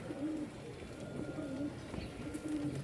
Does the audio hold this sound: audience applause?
no